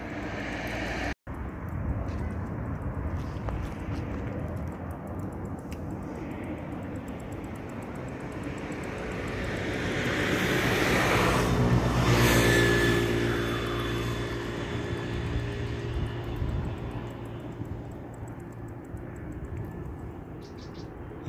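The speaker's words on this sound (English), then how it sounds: "Can even see the planes coming in." Airplanes coming in to land near Zadar, Croatia, heard from a hazy viewing point: a distant engine roar swells slowly to a broad peak and then fades, steady and continuous with outdoor wind noise and no talking.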